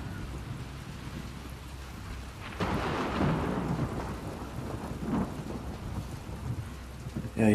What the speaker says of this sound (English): Maybe ride this fucking storm out.